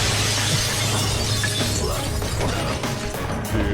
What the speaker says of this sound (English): Arrow literally just came in straight through the clock glass